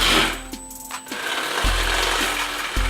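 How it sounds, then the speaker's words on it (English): A power drill grinds steadily into a metal clip, drilling it out, its whine broken by a few brief stops and restarts, close and loud. "What we're gonna do now is just drill out the clip right there"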